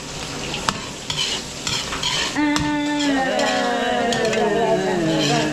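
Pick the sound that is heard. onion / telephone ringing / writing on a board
onion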